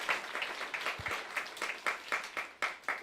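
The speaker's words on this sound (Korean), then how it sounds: "다시 한번 이런 아름다운 찬양을 우리에게 주신 주님께" A church congregation claps during a Sunday service after a hymn, a moderately loud patter of hands with uneven, pulsing bursts throughout.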